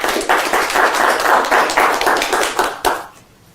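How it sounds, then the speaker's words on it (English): A small audience claps after a card trick is revealed, with steady, dense applause that holds for about three seconds, then quickly dies away. "Give him a round of applause, please."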